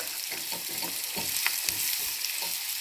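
A large onion fries in the oil left over from frying liver, making a close, continuous sizzle. Soft scraping strokes of stirring run through it.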